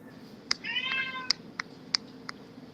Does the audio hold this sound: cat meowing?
yes